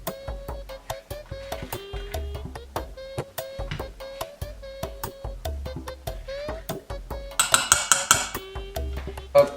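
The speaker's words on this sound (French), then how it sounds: "on vide tous les avocats avec la cuillère dans" A spoon scrapes and knocks against avocado skin and a bowl, giving a steady run of sharp close clicks and taps, busier toward the end.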